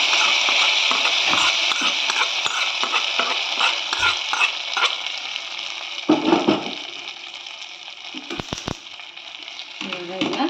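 Dry red chillies fried in a pan for bisi bele bath, a loud steady hiss of frying with scraping stirs and a few spoon knocks, and a voice speaking over part of it.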